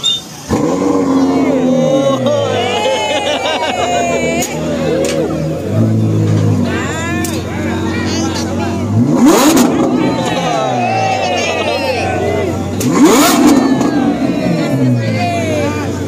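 A Ferrari sports car engine revs repeatedly and accelerates loudly at a crowded outdoor event in Jakarta's GBK area, with rising whines and sharp bursts over crowd noise.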